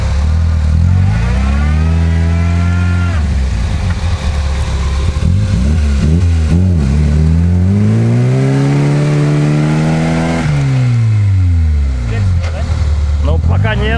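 A vehicle stuck in silt, its engine revving repeatedly as the wheels spin, with pitch rising and falling in long loud surges; people talk over it.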